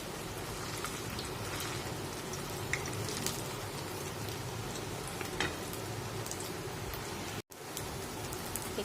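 Rice pakoras (bhater bora) crackle and sizzle steadily in hot oil as they are turned, a dense, even hiss close up with small pops and one brief dropout near the end.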